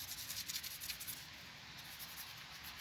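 Steady scrubbing and rubbing on grimy old engine parts, a close, continuous brushing friction with slight rhythmic pulses, no voices.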